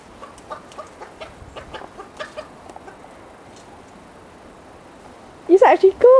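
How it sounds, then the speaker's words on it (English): A chicken clucks while being chased on foot, with soft scattered sounds and faint movement at first, then a burst of loud, close agitated squawking near the end. "I caught a chicken."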